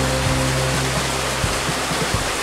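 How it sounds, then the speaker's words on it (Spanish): The Qosnicc Paccha waterfall in Ayacucho roars with a loud, even rush of falling water, heard continuously and close, with faint low thumps underneath and no voices. "Ahí está la catarata, al fin llegamos."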